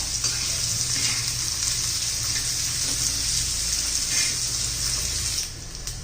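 Onion sautés in a pan until it loses its raw edge, part of a roasted eggplant bharit recipe. The sizzle is loud and close, with steady hissing crackle, then drops briefly quieter near the end, and no one talks.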